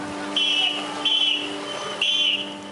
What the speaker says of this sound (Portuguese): um apito é absolutamente inútil para parar um navio enorme